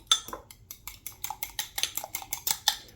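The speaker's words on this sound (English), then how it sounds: "So I'm gonna start scrambling this." Eggs whisked in a bowl for scrambling, a steady run of quick, bright clinks and taps of utensil against the bowl, close and fairly loud with no talking.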